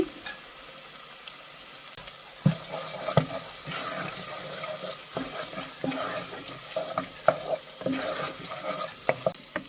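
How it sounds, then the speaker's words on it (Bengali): Spice paste with turmeric sizzles steadily in oil in a pan on low heat, with intermittent spatula stirs and scrapes standing out over the constant frying hiss. "সুন্দর কষানো হয়েছে তেল উঠে আসছে নিবু জালের দিয়ে"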